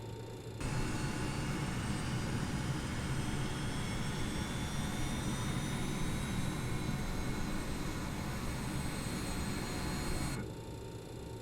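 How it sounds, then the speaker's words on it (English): A BAe 146 jet engine spins up in a flight simulator, a steady whining roar with rising turbine tones holding for about ten seconds before cutting off, no voices. "Okay, so we do have 1 good engine start."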